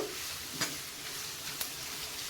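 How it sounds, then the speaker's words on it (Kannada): Green beans fry in a pan for fried rice, giving a steady low sizzle with a couple of brief scraping taps, close and fairly quiet, with no talking. "ಈಗ ಬೀನ್ಸ್ ಹಾಕ್ತಾ ಇದ್ದೀನಿ ನೋಡಿ ಹುರುಳಿಕಾಯಿ ನೋಡಿ ಇದು ಚೆನ್ನಾಗಿ ಫ್ರೈ ಆಗಬೇಕು"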